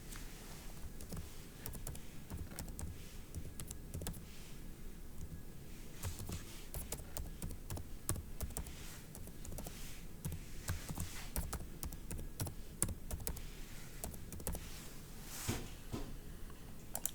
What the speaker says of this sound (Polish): W polu potwierdzenie wpisujemy ponownie docelowe hasło do logowania.